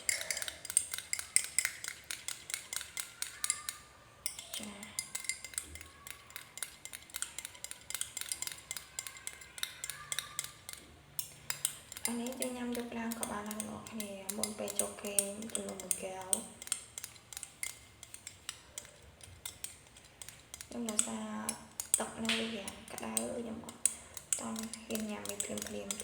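Grain mixed with lemon being stirred for a drink, a utensil scraping and clinking against a bowl in steady repeated strokes, close and fairly loud, with some talking over parts.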